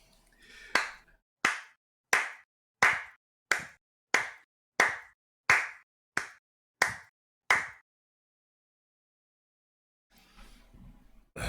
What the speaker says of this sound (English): just starts clapping